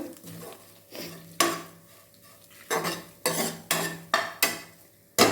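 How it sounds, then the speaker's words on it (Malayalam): Grated coconut for spinach thoran is stirred in a pan, with loud rhythmic scrapes of a spoon against metal repeating about once a second, close up and with no talk. "നന്നായിട്ട് ഇളക്കി കൊടുക്കുക തേങ്ങയൊക്കെ ഒരുമാതിരി പച്ച മണമൊക്കെ മാറിയിട്ടുണ്ട്"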